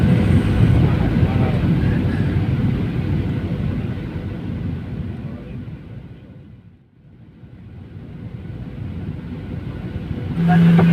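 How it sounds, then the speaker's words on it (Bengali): A Biman Bangladesh airliner lands at Tribhuvan International Airport in Kathmandu, heard from inside the cabin as a loud, steady roar. The roar fades briefly midway, then swells again as the engines surge near the end. "আমরা নেপালের ত্রিভুবন আন্তর্জাতিক বিমানবন্দরে অবশেষে অবতরণ করলাম আমাদের বাংলাদেশ বিমান"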